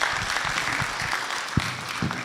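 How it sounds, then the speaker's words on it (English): Conference attendees at a national postgraduate students' gathering give the CEO a round of applause, a thick, sustained clapping from a large crowd filling the whole short stretch. "Another round of applause to CEO Kenya."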